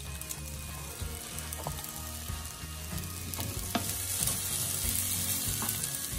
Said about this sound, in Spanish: Lo vamos a dejar aquí por unos minutos que se sofría un poquito con los vegetales.